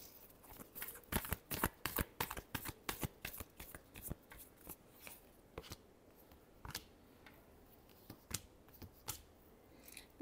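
Tarot cards are shuffled by hand in a quiet room, making a steady series of crisp riffling snaps that come close together at first and then space out, close to the listener with no other sounds.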